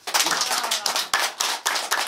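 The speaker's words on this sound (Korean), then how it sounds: "윤보영 시인님께 다시 한번 큰 박수 부탁드립니다" Audience applauding the poet Yun Bo-young at a speech event, a burst of close, sharp hand claps coming in uneven surges that fade and swell again across about two seconds.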